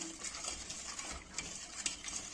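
A spoon stirs a cherry pudding mixture in a pan, giving soft, continuous scraping and swishing. The sound is quiet and close, with no one talking.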